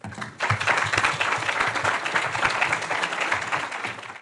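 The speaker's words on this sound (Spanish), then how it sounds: "Pido un gran aplauso por Ernesto." An audience applauds Ernesto Rodríguez after a tribute on friendship, a dense burst of many hands that starts abruptly after a brief pause and stays loud and steady, close and full, with no voices over it.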